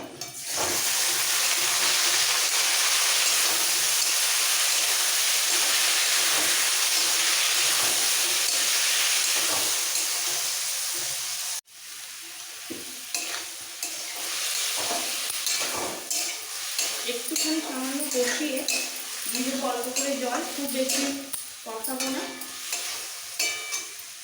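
Marinated vegetables for veg biryani fry in a pan with a loud, dense sizzle, then after a brief break give a quieter hiss with repeated scraping and stirring of a spoon against the pan.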